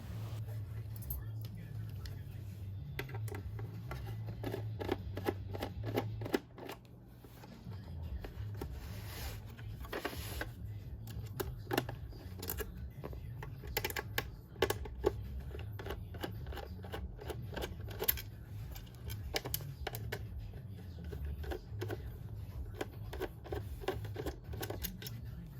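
A screwdriver backs four screws out of an Xbox 360 disc drive during a repair, with dense faint clicking, scraping and ticking over a low steady hum, close by and quiet.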